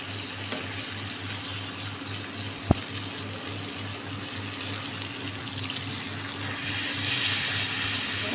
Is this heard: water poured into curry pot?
yes